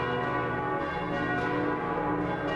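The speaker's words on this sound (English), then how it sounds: "What's that bell? Just the passing of another day." Church bell tolling in the Koudelka survival horror video game, a sustained ringing tone with rich lingering overtones that fills the whole moment steadily, heard alone without voices.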